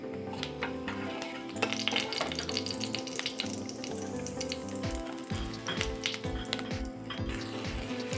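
Panch phoron five-spice crackles and sizzles steadily in hot oil for vegetarian noodles, a dense continuous fry with small pops throughout, close and fairly loud.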